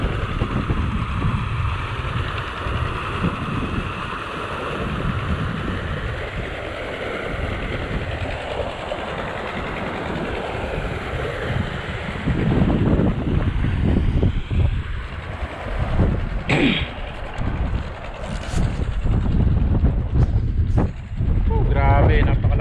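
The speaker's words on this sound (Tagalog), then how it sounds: "Grabe, napakalakas ng hangin." Strong wind blows over water at a fishing spot, a loud steady roar with buffeting gusts hitting the microphone, and people speak intermittently underneath.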